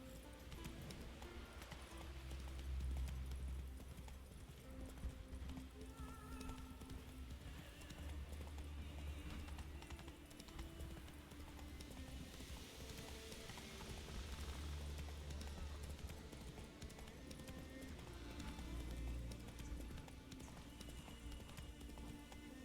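A horse gallops in The Witcher 3: Wild Hunt, its hoofbeats a steady, quiet clip-clop running throughout with low rumbling game ambience underneath.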